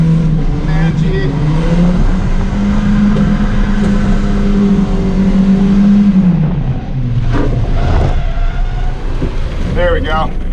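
A cheap old Volvo drifts through a residential cul-de-sac. The engine holds a steady, loud drone with rising revs and wind buffeting the microphone, and a brief tire squeal comes near the end.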